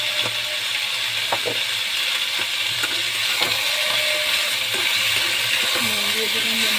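Spices and salt frying in a pan make a steady, bright sizzling hiss that runs without a break, broken by scattered light clinks and scrapes up close.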